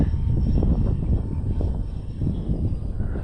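An FMS A-10 V2 radio-controlled airplane's engine gives a steady, low, droning roar for a few seconds, mixed with gusty crosswind rumble outdoors.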